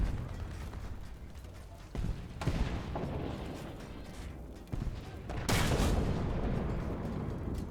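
Sustained machine gun fire pours from a gun port in a video game, a dense continuous rattle with louder bursts near two and five and a half seconds, mixed with faint background talk.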